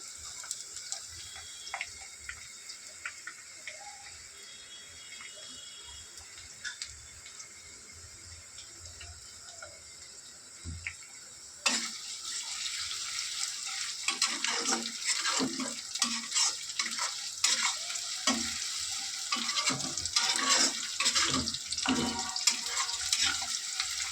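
Chopped onion goes into garlic already frying in oil for a kolmi shak (water spinach) dish, the sizzle jumping sharply louder midway and staying as a dense, steady crackle of frying with stirring.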